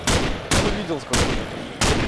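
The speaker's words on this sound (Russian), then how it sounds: "Зомби стреляю." Gunfire in a Minecraft zombie apocalypse game, four loud, close bursts spaced about half a second apart, each a sharp crack with a short tail.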